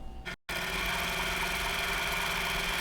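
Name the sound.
sewing machine stitching a quilt block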